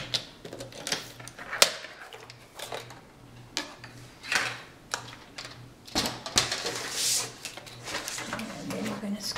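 A 3.5 by 12 inch piece of paper being cut for a picnic centerpiece, with a series of close, clicky slicing and trimmer strokes repeating irregularly, heard alongside a steady low hum and intermittent talking.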